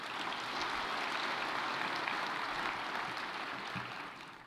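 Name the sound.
audience applause at summit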